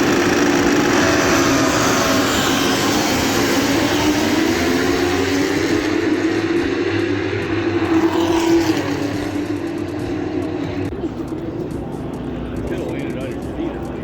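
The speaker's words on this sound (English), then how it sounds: "It's the best part, having them rev their engines," MotoAmerica superbike racing motorcycles roar loudly at the start-finish line, engines revving and rising in pitch as the bikes take off, with the sound fading somewhat near the end.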